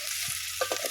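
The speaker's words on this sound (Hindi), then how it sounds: "प्याज घटा होची" Onions fry in a pan, a close, steady sizzle with a couple of brief stirring knocks and scrapes in the short moment.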